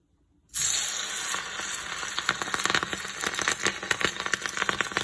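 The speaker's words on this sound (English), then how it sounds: "I have here oil heated. To that I'm going to drop in the balls." Coconut rice balls drop into heated oil and burst into a loud, steady sizzle right after a moment of silence, then keep frying with crackling pops, close up.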